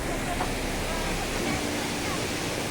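Monsoon waterfall at Manche near Devgad, a steady dense roar of falling water filling the scene evenly at moderate level.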